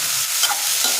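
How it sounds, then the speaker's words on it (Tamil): Onions and tomatoes fry in a pan for chutney, a continuous close sizzle with brief stirring scrapes over the hiss. "தக்காளி நல்லா வதங்கட்டும்."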